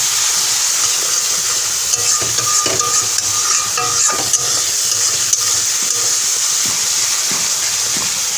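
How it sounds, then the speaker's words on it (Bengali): Chicken pieces sautéing in a pan for Bengali chicken kosha with Kashmiri chilli powder, a steady loud sizzle with scattered scraping and clinking of a spoon stirring against the pan. "চিকেনটা ভালো করে কষা হচ্ছে।"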